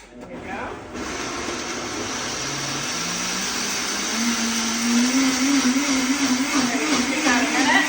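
A kitchen blender whirs steadily as it mixes high-protein oat waffle batter, a loud continuous motor drone that climbs slightly in pitch partway through.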